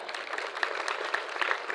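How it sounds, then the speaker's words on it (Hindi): Brief applause from students in a class, a short patter of scattered hand claps at moderate volume with a few sharper claps standing out over a soft roomy background. "तालियां बजा दें यार।"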